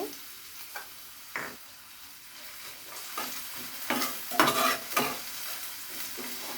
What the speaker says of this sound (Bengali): তেলে আমি পেঁয়াজ আর রসুন কুচি, কাঁচামরিচ কুচি দিয়ে দিচ্ছি।